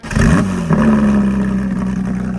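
A Porsche GT4 engine revs loudly with a deep, throaty exhaust roar, sustained and close, dipping briefly then holding a steady rumble.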